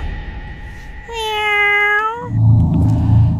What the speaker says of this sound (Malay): Bunyi kucing mengiau, Casey.